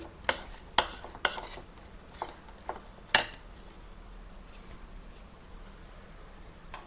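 Drumstick pieces being stirred into a homemade pickle mixture in a bowl, giving a handful of soft scraping knocks and clinks spread unevenly across the clip, fairly faint and close with no talking.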